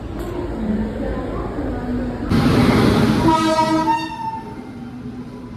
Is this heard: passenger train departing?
yes